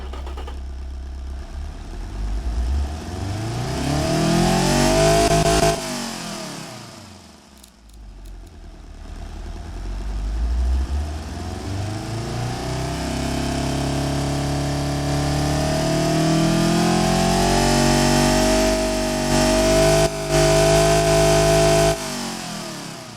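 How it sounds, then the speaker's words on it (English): A 1990s German-style four-cylinder police car engine in the Automation and BeamNG driving games, revving repeatedly up and down through sweeping rises and falls, loud and close, with a brief dip mid-run before climbing and holding high again. "let's give you here what this engine sounds like with the same horsepower and same torque rating"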